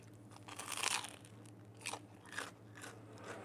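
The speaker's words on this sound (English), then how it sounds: "Let's listen to this crunch." Crunchy bites into a Neapolitan panuozzo sandwich, a few crisp crackling crunches close up, loudest at the start and then repeating more softly, with a steady low hum underneath and no talking.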